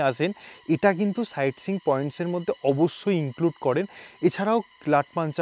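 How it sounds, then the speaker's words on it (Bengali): Crickets chirr at dusk beside Namthing Lake near Sittong among pine forest: a steady, high, continuous drone runs beneath close, continuous speech throughout. "সন্ধে হব হব করছে আর চারিদিকে বিকট ঝিঝি পোকার ডাক।"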